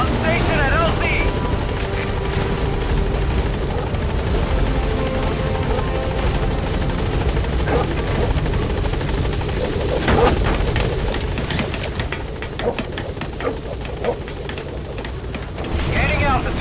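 Helicopter approaching and settling at a landing zone in Metal Gear Solid V: The Phantom Pain, a loud continuous rotor drone throughout, with a voice heard over it.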